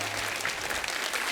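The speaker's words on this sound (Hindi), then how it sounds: "जोरदार तालियां रीना जी के लिए हो जाए" Audience applause welcoming actress Reena Roy, a short burst of steady crowd clapping.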